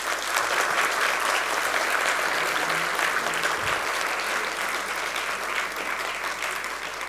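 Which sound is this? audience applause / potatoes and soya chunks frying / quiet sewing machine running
audience applause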